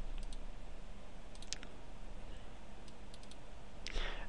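A computer mouse clicks while a file is saved as TGA: a handful of short, sharp clicks in small clusters over a faint steady hum, with a brief rustle near the end.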